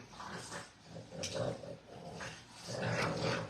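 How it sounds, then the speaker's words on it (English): Two dogs growl and snarl playfully in close, rough bursts, with low rumbling growls rising and falling as they wrestle. "2 are like wrestling and growling."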